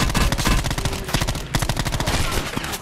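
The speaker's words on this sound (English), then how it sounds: "Oh god, I'm getting shot at already" Heavy automatic gunfire in a video game crackles in fast, evenly spaced shots, close and loud, with a brief pause before another long rapid burst.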